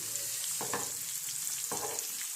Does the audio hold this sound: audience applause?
no